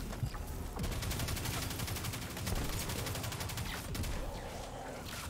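Rapid video-game gunfire in a Saber Grand Master mission, dense bursts of automatic shots hammering almost continuously for several seconds, loud and close with no talk.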